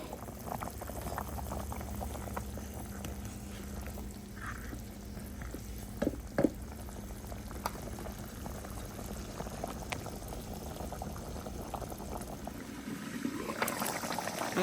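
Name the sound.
chicken curry boiling in covered pot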